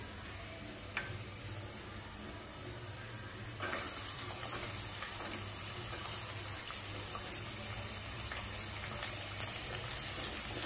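Onion sautéing in hot oil with golden-fried garlic, a continuous close sizzle with crackling ticks and occasional stirring scrapes, growing slightly brighter partway through.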